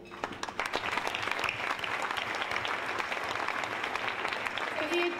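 Audience at a charity annual ball bursts into applause, a dense sustained clapping with a voice speaking over it and scattered cheers.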